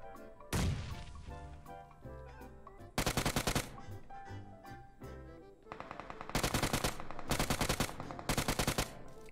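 Bursts of UMP submachine gun fire from PUBG Mobile, a long burst followed by several rapid automatic volleys, loud and close with short pauses between them.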